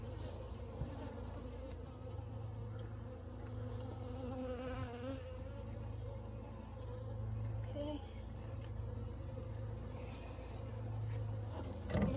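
Honey bees buzz at an open hive, a dense steady droning hum close by with individual bees whining past, and a quiet voice murmuring now and then underneath.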